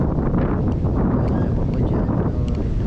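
Steady wind buffets the microphone outside Santo Niño Church near a highway in President Carlos P. Garcia, Bohol, Philippines, a loud constant low rumble with rustling, no voices present.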